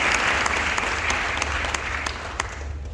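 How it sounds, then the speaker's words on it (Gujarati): A seminar audience claps in a dense, loud, continuous burst of applause that fades slightly toward the end, with faint voices mixed in. "અહીંયા આગળ તમારા માટે લોકો દિલથી તાળી પાડે."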